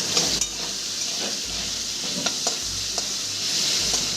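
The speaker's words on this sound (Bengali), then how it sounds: "এটা আমি সামান্য লবণ দিয়ে লাল করে ভেজে নেব" Vegetables sizzle steadily in hot oil while a spoon scrapes and stirs the pan, with a low hum underneath.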